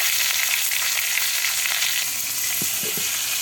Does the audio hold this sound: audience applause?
no